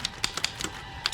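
Sharp clacks from an old mechanical typewriter, about seven keystrokes struck in an uneven rhythm, close and fairly quiet with no voices.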